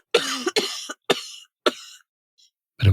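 A person coughing from smoke in the lungs: four hoarse, forceful coughs in quick succession with short gaps, close and loud, then a faint breath and a final sharp start.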